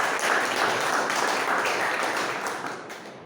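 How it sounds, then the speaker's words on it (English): An audience at a Toastmasters club meeting claps for a speaker, a dense patter of many hands that holds steady and then gradually thins and fades toward the end. "A big round of applause for Toastmasters Shilpi for giving a wonderful session on consistency"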